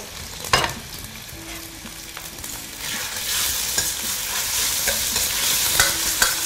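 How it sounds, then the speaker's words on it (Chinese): Diced chicken thigh meat stir-frying in a little oil in a wok, a steady loud sizzle that builds and grows denser after a few seconds, with scattered clinks and scrapes of a spatula stirring. "鸡丁先放进去，先煸一下。"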